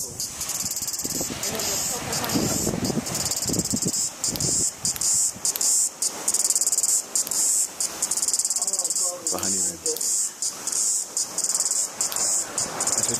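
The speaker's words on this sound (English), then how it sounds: "we've got a cicada up on the roof here, and there he is, little Tucker, making the" A cicada on a roof in Waikiki buzzes loudly and continuously with a high, pulsing drone, while voices talk underneath.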